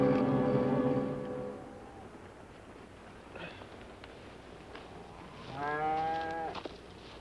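Cattle on a TV western soundtrack let out two long, low moos, one at the start and another near the end, with a faint background and no talk over them.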